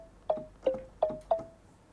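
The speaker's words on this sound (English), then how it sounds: "which is an alchemy instrument. And you can find it under kalimba morph." Four plucked, bell-like notes from the Alchemy kalimba morph instrument in Logic Pro, evenly spaced with sharp attacks and short ringing tails, clear and alone in a quiet mix.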